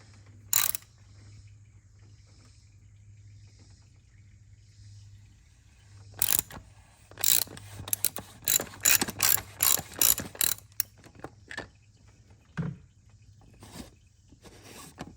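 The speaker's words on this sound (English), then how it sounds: "Let me go ahead and get this old canister out." A hand ratchet clicks in quick bursts while loosening the old oil filter canister on a Mercedes GLC-43. After a single early click and a pause, dense runs of sharp, close ratcheting follow, over a low steady hum.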